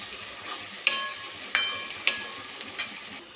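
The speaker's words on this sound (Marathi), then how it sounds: "तेल सुटेपर्यंत चांगली कलसून घ्यायची आहे" Tomato and masala paste for street-style pav bhaji fries in oil while being stirred, a soft sizzle broken by four or five sharp scraping stirs spaced roughly half a second apart.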